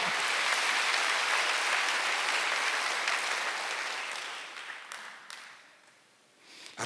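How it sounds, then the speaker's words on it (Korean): A church congregation at a Wednesday worship service bursts into loud, dense applause that holds steady, then gradually thins and fades toward the end before a brief rise. "박수 한번 주세요."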